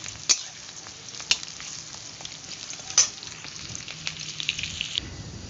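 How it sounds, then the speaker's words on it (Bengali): Onions frying in a pan for chicken korma, a steady close sizzle with a few sharp clinks and scrapes as they are stirred. "পেঁয়াজটা নাড়িয়ে নিচ্ছি।"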